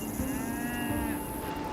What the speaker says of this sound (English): showing you a herd of cows grazing in a field blown through with wildflowers